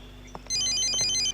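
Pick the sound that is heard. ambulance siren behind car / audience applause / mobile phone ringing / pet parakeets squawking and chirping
mobile phone ringing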